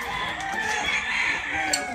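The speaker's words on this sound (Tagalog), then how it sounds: "Ganda ng manok nila." A rooster crows loudly and steadily among clucking chickens, a sustained, close crow filling the whole moment with faint farmyard noise underneath.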